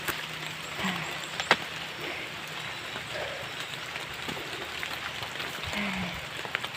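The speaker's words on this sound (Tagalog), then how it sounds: "Medyo malakas lang ang ulan." Heavy rain falls steadily on a surface outdoors at a farm, a dense, continuous patter with a few sharper drops and faint background noises.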